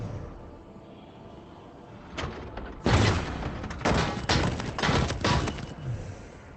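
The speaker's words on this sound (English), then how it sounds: "the fireworks from the balloon fiesta" Fireworks at a balloon fiesta, a series of distant booms and crackling bursts clustered over a few seconds against a low background rumble, with no talk.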